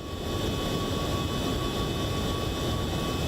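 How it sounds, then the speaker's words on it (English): Steady, loud roar of MD-11F jet engines heard from outside the aircraft in X-Plane 12, a dense broadband rumble with a faint high whine, continuous and close throughout. "I speak over the sound of what's going on with the engines and stuff"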